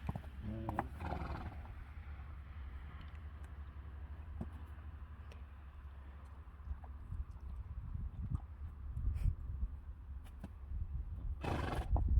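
Friesian horses whinny in a few high, shaky bursts near the start and again at the end, over a steady low outdoor rumble.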